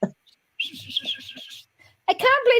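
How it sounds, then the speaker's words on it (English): A person whistles a brief run of quick, high, chirpy notes up close. A voice is heard just after the whistle. "I can whistle."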